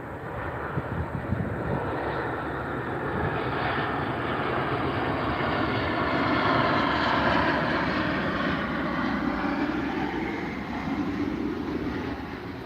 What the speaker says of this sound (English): But watch this big plane land.